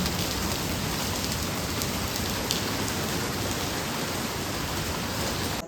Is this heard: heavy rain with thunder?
yes